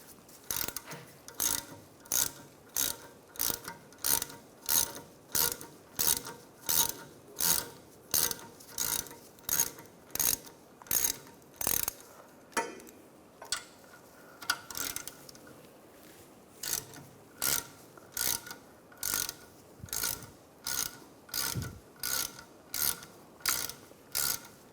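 A hand ratchet with a 7mm hex socket clicks in steady, evenly spaced strokes while backing out the brake caliper bolts on a 2004–2010 BMW X3 rear wheel. The strokes are close and crisp, with a brief pause partway through.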